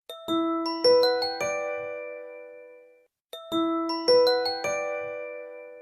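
A BlackBerry phone ringtone plays a short bright chiming melody of a few bell-like notes, rings out, then repeats a second time. It is clear and close, with no voices.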